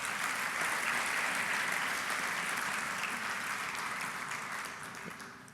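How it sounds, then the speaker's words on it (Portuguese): A church congregation claps together in sustained, even applause that fills the room, holding steady for several seconds before tapering off slightly at the end. "Aplauda Jesus mais uma vez."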